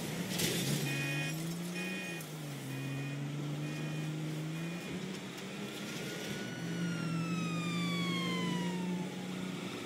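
A police siren wails in GTA V during a monster truck getaway, its rising and falling tones sweeping steadily over a constant engine drone. A second siren pitch slides downward as the cars draw near.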